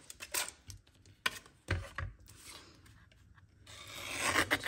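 A paper trimmer slices stamped paper, inked with Versamark and heat-embossed with white powder, into a strip. Several close, sharp scraping swipes come in bursts, with quieter rustling between and a steady rasp building at the end. No one speaks.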